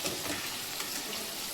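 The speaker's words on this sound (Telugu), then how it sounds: "ఉసిరికాయలు అయిపోతున్నా నూనెలో. ఇలా వేగిన తర్వాత తీసుకోవాలి ఉసిరికాయ ముక్కలు." Pieces of Indian gooseberry (amla) fry in hot oil for an amla pickle, giving a steady, close, dense sizzle with fine crackling throughout and no voices.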